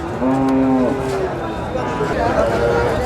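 Bulls at a Bangladeshi livestock market, with one loud, close moo held for about a second and a fainter low call later, set against crowd murmur and someone talking.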